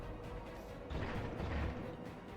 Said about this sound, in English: the battle rifle here is amazing, and the sound design is just perfect